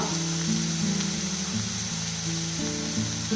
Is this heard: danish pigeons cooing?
no